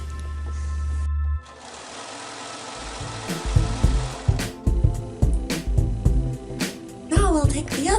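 A sewing machine stitching the side seam of a tight blue dress from hip to armpit, with a close, rapid mechanical chatter that runs in short bursts with brief pauses.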